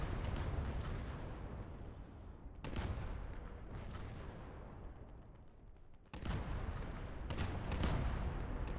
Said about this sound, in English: the artillery batteries are going. And they're going well